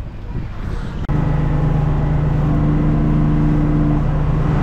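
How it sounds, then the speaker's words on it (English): A boat on the St. Lawrence Seaway passes close by. After a brief bump, a steady engine drone holds and a low tonal hum rises in it, with no talk. "Alright, that's the boat I was on earlier."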